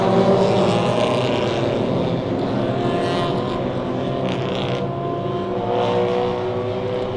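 Race cars accelerate at a circuit restart, a dense, continuous roar of several engines rising in pitch and holding loud over the whole stretch, heard from trackside with no speech.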